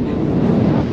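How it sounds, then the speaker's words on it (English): Strong wind on a mountain summit buffeting the microphone, a loud continuous low roar with no pauses. "It's windy."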